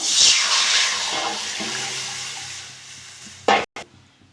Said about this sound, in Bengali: আমি এবার জল দিয়ে দেবো।